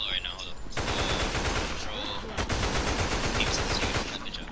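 Rapid video-game gunfire at zombies rattles out as a steady, dense stream of automatic shots, moderately loud and continuous.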